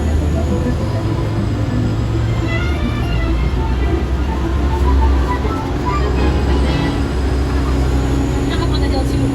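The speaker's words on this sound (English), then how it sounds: "Right inside of the tram." A studio tour tram rolls along with a steady low rumble and continuous road and wheel noise, under a tour guide speaking over the ride.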